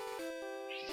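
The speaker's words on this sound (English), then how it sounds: "I wish you could hear my cat screaming right now" A pet cat lets out a loud, drawn-out meow that rises at the end, close by and alone for under a second.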